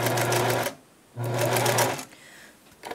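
A sewing machine stitching a drawstring bag, running in two steady bursts of rapid mechanical whirring with a brief pause between them. The stitching is close and fairly loud, followed by quieter handling noise.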